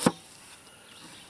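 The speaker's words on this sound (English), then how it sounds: "See how that hollow right there slices that onion?" A knife sharpened with a hollow grind cuts through an onion at a campsite, giving one crisp, close chop at the start followed by quiet.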